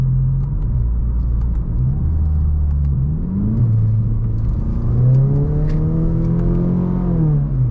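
A straight-piped Mazda 6 revs loudly up close, its deep unmuffled exhaust rising and falling through several throttle blips before climbing into a longer, higher rev.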